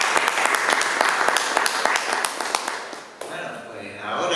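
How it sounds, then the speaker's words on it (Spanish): Audience applause at a book presentation, dense clapping with sharp individual claps for about three seconds, then fading abruptly into a quieter room with some lingering murmur. "Un aplauso, por favor."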